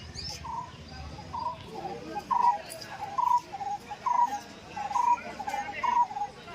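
A partridge calls repeatedly, short clipped notes in a steady rhythm, fairly close and clear over a low background murmur.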